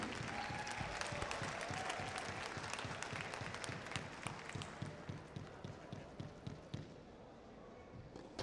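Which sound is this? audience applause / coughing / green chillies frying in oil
audience applause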